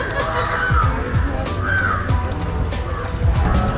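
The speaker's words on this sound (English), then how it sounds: "there is thousands of crows that look up in the trees" Thousands of crows caw from the trees in Kandy, Sri Lanka, a dense, loud, overlapping chorus of harsh calls with steady outdoor background noise.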